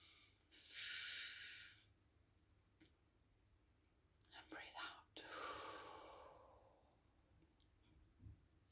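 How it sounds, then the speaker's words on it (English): A close, quiet breath during a guided meditation: a soft hissing inhale, then a few breathy puffs and a longer airy exhale, with a faint low thump at the end. "Breathing in."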